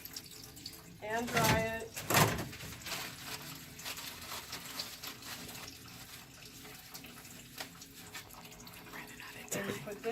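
Tap water runs steadily while hands are washed and rinsed, a continuous splashing hiss beneath a person speaking nearby.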